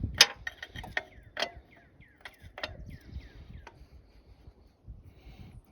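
Belt tensioner on a 2000–2005 Neon being levered forward during an alternator belt swap gives several sharp metallic clicks and ratcheting creaks, close up and fairly quiet, with a low rumble in between and no speech.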